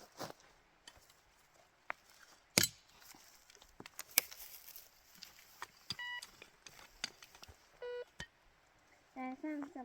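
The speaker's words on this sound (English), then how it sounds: "Can I use the metal detector thing now?" Metal detector giving a few short tonal beeps in an abandoned gold mine, faint against scattered clicks and knocks, with people talking quietly.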